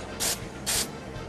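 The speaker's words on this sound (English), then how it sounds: "Supposed to just kind of turn it and spray it." Contact cleaner sprayed onto an electric car motor's commutator in two short, sharp aerosol bursts, each a loud close hiss with a brief pause between.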